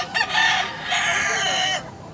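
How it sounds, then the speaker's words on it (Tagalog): A fighting rooster at Cebu's Carbon Market gives a short, loud, close call, a couple of sharp clucks followed by a drawn-out crow, with faint market noise behind. "Matinding klaseng manok."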